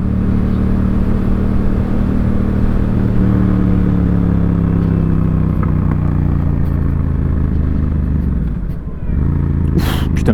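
Yamaha MT-07 in A2 trim running on the road, a steady mid-pitched twin-cylinder drone that shifts as the throttle is opened and then closed, with a brief dip and a crackle near the end.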